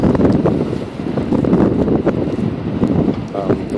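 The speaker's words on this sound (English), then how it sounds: "The wind is already blowing. It's already gusting." Gusty wind roars steadily and loudly during a snow blizzard in New York City, buffeting the microphone without pause.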